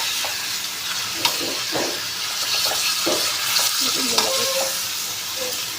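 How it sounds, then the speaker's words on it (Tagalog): Crushed tomatoes sautéing in a pot for sinigang with pink salmon head and shrimp: a continuous hissing sizzle under repeated spoon stirs and scrapes, close by, with a few faint tonal squeaks. "Ngayon lakay, ginigisa na natin to."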